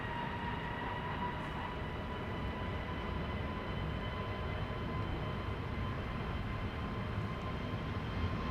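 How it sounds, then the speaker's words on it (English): A JetBlue airliner departing from the Polderbaan runway at Amsterdam Schiphol Airport, a distant, steady engine roar with a broad rumbling wash that holds even and unbroken throughout. "JetBlue flight 2289 to New York JFK will be leaving next here at the Polderbaan."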